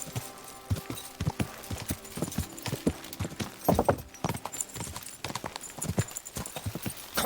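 A horse gallops in Kingdom Come: Deliverance II, its hooves clip-clopping in a fast, steady rhythm, close and clear, with a few louder thuds mixed into the gait.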